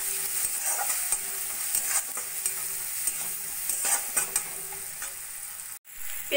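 Chopped onion, garlic and green chillies fry in a pan with salt and turmeric, giving a soft steady sizzle broken by repeated scrapes of a spatula stirring the pan, close and fairly quiet.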